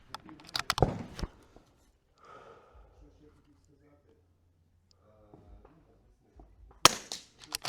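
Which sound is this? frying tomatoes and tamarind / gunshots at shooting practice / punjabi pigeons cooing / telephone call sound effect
gunshots at shooting practice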